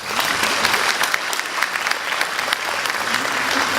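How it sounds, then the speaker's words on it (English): A banquet hall dinner audience at an equal opportunity dinner applauds itself, a dense, steady wash of clapping from many hands that fills the room evenly and continues without talk. "I think you should give yourselves a round of applause for that"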